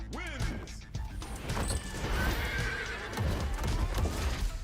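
M. Bison's horse in a fighting video game gives a sharp whinny, then hooves clatter in a rapid galloping clip-clop mixed with crashing impacts, loud and close throughout.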